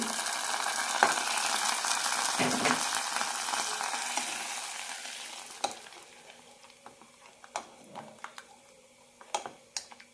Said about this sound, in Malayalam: ഇനി ഇതിലേക്ക് താളിച്ചിടാം കടുക് കറിവേപ്പില സവാള